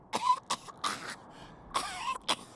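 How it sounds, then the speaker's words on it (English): A woman coughs in a short, faint fit of several harsh bursts with brief gaps, then a final cough, in the video game Wasteland 3. "A fit of coughing takes her and she fumbles in her knapsack."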